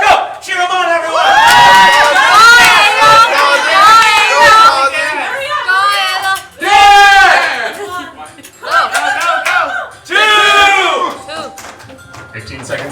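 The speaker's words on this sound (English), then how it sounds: "Cheer them on, everyone!" Live game show audience cheering, whooping and shouting in loud bursts with gaps between them, while a host's voice talks over the crowd noise.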